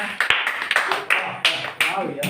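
An audience claps at a prize-giving during a games event, with a run of sharp, uneven hand claps close by, mixed with voices talking.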